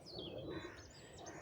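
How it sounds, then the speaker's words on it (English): Redbird (cardinal) chicks chirp for food near an oak tree, a thin high twittering running steadily through the whole stretch over a soft rustling background. "the redbird's eggs have hatched and already the chicks are chirping for food"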